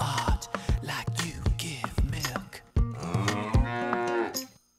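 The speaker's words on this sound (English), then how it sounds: "Excuse me while I talk to this cow that is grazing" A cartoon cow in an animated musical number moos repeatedly, loud and close, with several drawn-out lowing calls over a rhythmic backing beat.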